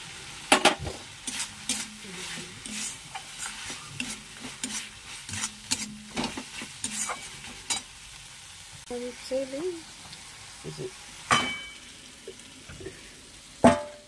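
A spice paste with coconut is sautéed in a pan, with a soft ongoing sizzle broken by repeated scraping and clattering strokes of a spatula, close up and moderately quiet.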